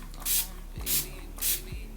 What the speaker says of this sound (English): I'm taking my Urban Decay All Nighter Setting Spray and using that to set my face